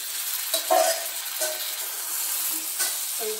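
Chicken pieces frying and being stirred in masala for a Tamil chicken kuzhambu, with a steady soft sizzle broken by a few brief scraping stirs, close and alone.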